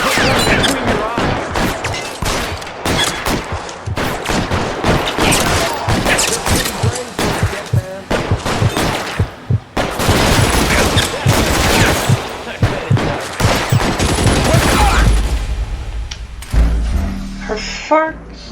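Game gunfire from the detective shooter L.A. Noire cracks out in loud, repeated bursts of shots throughout, with brief pauses and occasional voices.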